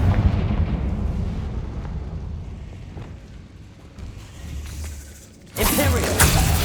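A Confringo fire spell explodes in the Hogwarts Legacy video game. A low, rumbling combat backdrop drifts along until a sudden loud, crackling blast bursts in near the end and carries on to the close.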